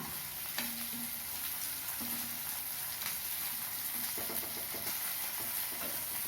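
Onion and tomato fry in a pan for a small yam roast, giving a continuous soft sizzle broken by scattered clicks and scrapes of stirring.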